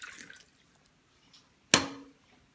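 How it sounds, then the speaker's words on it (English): A cup of liquid poured into a bowl for a science project: faint dribbling at the start, then a short, sharp splash followed by a brief fading trickle. "Now that I've got a cup, I will pour it"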